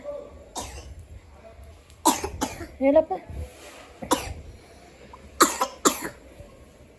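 A sick young girl coughs in several sharp bursts at home, close to the microphone, with an adult speaking to her in between and a low background hum.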